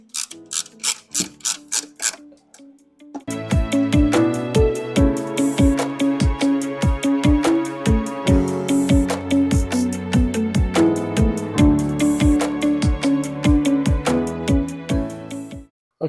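A 1/4-inch socket ratchet runs down the lower intake manifold bolts on a Chrysler Town and Country. A few slow clicks come first, then a long run of quick, even, close metallic clicking that stops abruptly.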